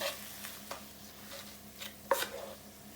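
Red wine and demerara sugar being stirred together in a pan, soft scraping strokes and a few sharper clinks of utensil on metal, quiet and close with no talking.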